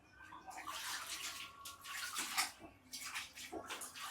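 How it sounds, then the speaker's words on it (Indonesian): A plain t-shirt rinsed by hand in a tub of clean water, close sloshing and splashing in uneven bursts with short pauses, no talking. "dibilase nang air bersih. Kita bilas dulu."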